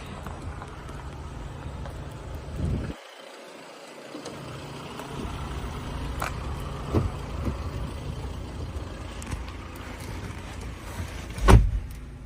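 The powered tailgate of a diesel automatic car whirs open on its electric motor in a steady, close mechanical hum, broken by a short pause and ending with a soft thump.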